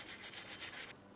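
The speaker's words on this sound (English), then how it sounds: "We'll use a wire brush in between the studs and the center of the hub." A wire brush scrubs between the wheel studs and the hub centre of a 2004-2008 Pontiac Grand Prix, making about five quick, close, rhythmic rasping strokes that stop abruptly.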